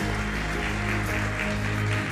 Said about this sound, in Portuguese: palmas para o Felipe.